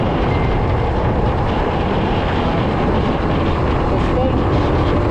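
A motor tricycle's engine drones steadily during a ride, a loud, continuous, rumbling roar mixed with wind buffeting and no distinct changes.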